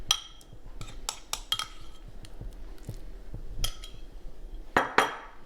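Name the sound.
mixing cheese, parsley and seasoning in a bowl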